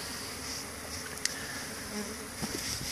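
Honeybees on a cleansing flight buzz steadily around hives on a bench in early March, a continuous close hum with a few brief louder passes near the hive entrances.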